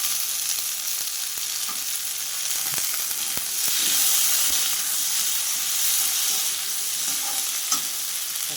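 Onions and tomato sautéing in a pan for perandai thuvayal, with a loud, steady hissing sizzle and scattered sharp clicks from the spatula, close up, without any talking.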